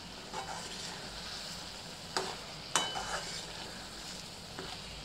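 Cluster bean and gram flour bhaji being stirred in a pan as it finishes cooking, with a steady soft sizzle and a few scraping clinks of the spoon against the pan at irregular moments.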